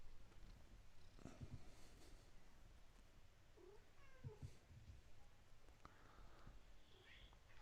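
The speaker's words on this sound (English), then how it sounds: "The cat's meowing." A cat purrs softly and lets out a few faint meows close by in a quiet room, with no talking.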